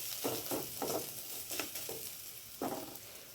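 Coriander and cumin powder stir-fried in a pan for paneer cutlet, soft sizzling with several scraping stirs of the spatula at an uneven rhythm, close and fairly quiet.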